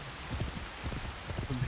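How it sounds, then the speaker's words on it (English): Rain falling in the Assassin's Creed Shadows video game, a steady soft patter of drops with faint low thuds and rustles throughout, fairly quiet with no talk. "you load back in and it's raining now"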